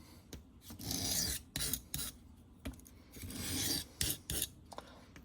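A knife is pushed across a coarse whetstone in quick rhythmic strokes, a dry rasping scrape repeated about eight times with short pauses between passes, close and fairly quiet, with no speech.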